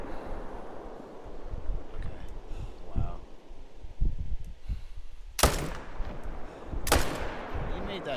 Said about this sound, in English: So what I'm going to do is I'm going to shoot this guy here.